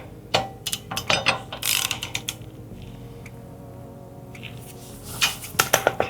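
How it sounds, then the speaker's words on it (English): A torque wrench ratchets bolts to 35 foot-pounds on a 57 Chevy: quick bursts of close, rapid metallic clicking, a quieter pause in the middle, then more ratcheting at the end, with no speech. "So we'll get the torque wrench on these in a sec."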